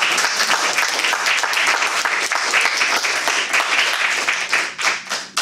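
Audience applause with some cheering fills a Toastmasters meeting room, a dense, steady wash of clapping that runs loud and continuous for several seconds before thinning slightly near the end.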